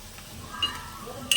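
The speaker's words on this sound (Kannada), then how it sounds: "ನೋಡಿ, ಗೋಲ್ಡನ್ ಫ್ರೈ ಆಗ್ತಿದೆಯಲ್ಲ" Baby potatoes frying golden in a pan over a low flame give off a faint, steady sizzle, broken by a couple of light clinks from a utensil.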